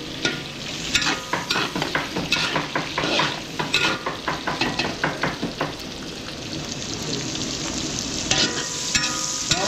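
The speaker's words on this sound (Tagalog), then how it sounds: "Gigisa ko na lang to." Garlic sautéing in a pan, with a steady sizzle and a rhythmic run of scraping, clacking stirring strokes in the first half, then a calmer, continuous fry.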